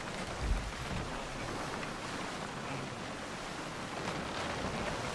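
Wind blows at sea in the pirate game Skull and Bones, a steady broadband rush with surf-like swells. A brief low thump comes early, then it runs on evenly throughout.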